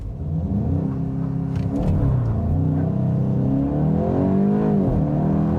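A 2025 Volkswagen GTI with a dual-clutch transmission launches hard from a standstill under launch control, its engine note climbing through rising pitch sweeps with audible gear changes, loud and close throughout.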